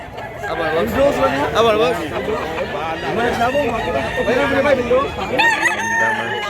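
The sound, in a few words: chickens and roosters clucking and crowing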